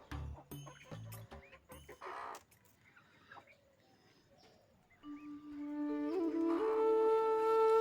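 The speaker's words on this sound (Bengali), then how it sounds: "আসে বড় মুরগি একটা মোরগ তিনটা আর মুরগির বাচ্চা একটা" Backyard hens, roosters and a chick make scattered clucks and calls, faint and intermittent at first, then louder drawn-out crowing-like calls toward the end.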